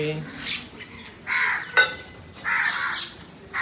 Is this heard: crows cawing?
yes